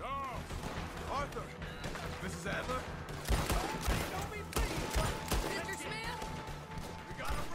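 Rapid gunfire crackles through a shootout in the video game Red Dead Redemption 2, with volleys of shots and sharp bangs at close and middle distance. Shouting voices are heard amid the firing.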